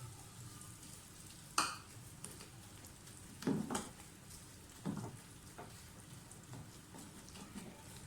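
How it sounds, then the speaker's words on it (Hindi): Besan roasting in ghee for halwa over a low flame, a soft faint sizzle under occasional scraping stirs and a few sharper clinks of the spoon against the pan. "इसको घी में फ्राई करना है।"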